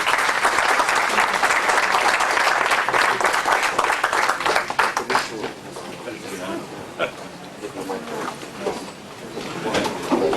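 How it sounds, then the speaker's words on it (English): Audience applause at a Middle East Forum debate event, a dense burst of clapping from a seated crowd that fades into scattered claps as people begin talking. "please give them a big applause"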